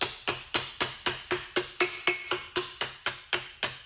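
Hammer blows shaping a small hand-formed metal patch over an anvil ring out in a steady, even rhythm of about three to four sharp, close metallic strikes per second, each with a brief ringing decay.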